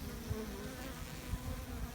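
Honey bees in a broodless hive full of bees fill the air with a dense, steady buzz, close and continuous with no talking.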